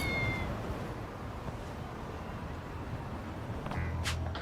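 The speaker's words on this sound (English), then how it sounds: "A stray cat." A stray cat in Lost Judgment gives a few short meows over a steady ambient city backdrop, faint and mid-distance, with no talking.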